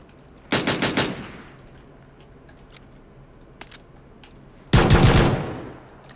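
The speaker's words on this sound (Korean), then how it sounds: "멀리서 누가 쏘는데, 나?" Two rapid bursts of automatic gunfire in a battle royale video game, loud sharp rattling volleys separated by a few seconds of quieter background with a faint isolated shot between.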